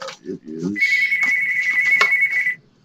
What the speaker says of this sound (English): As the phone is ringing in the office